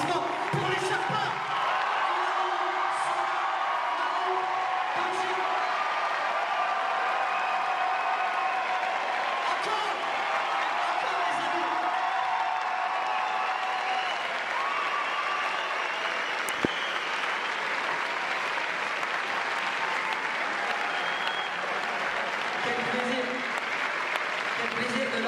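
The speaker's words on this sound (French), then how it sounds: "Faites un tonnerre d'applaudissements pour les Sherpas." A packed theatre crowd at the Grand Rex applauds the Sherpas, a long, sustained ovation of many hands clapping, with scattered whoops and cheers and a few voices rising through it.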